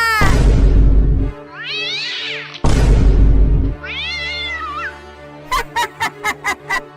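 Two drawn-out cat meows alternate with loud, harsh bursts, then a quick run of six short rhythmic beats follows.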